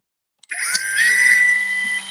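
A power drill spins up after a faint click and drills into metal with a steady high whine for under two seconds, close and loud.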